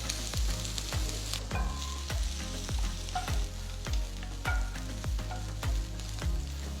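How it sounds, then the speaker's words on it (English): Capsicum and cabbage for kadai paneer sauté in a pan with a constant sizzle, punctuated by rhythmic thumps and scrapes of a spatula tossing the vegetables roughly every half second, close and steady, no voices. "Saute the vegetables for about 2 to 3 minutes"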